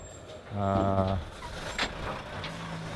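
A truck passes on a street by the Baha'i Gardens in Haifa, a loud engine roar rising suddenly and holding for about a second over a steady traffic rumble, then settling back into background hum.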